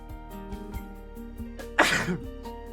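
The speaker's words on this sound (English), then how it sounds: "I really feel this sneeze coming" A single sharp sneeze bursts out loud and close after a stretch of quiet background tones, then trails off quickly.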